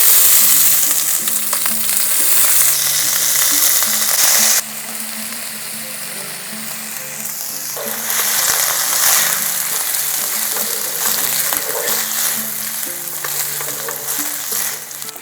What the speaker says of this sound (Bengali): যখন ফাটতে শুরু করেছে ঠিক সেই সময় দিয়ে দিচ্ছি জলে ভিজিয়ে রাখা চালটা